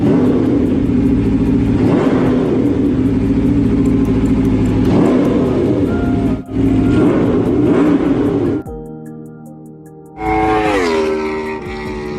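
A modified 2015 Aprilia RSV4-R V4 superbike, fitted with a K&N air filter, revs hard and loud up close, its engine note rising and falling in repeated surges, then dropping away before blipping back up sharply.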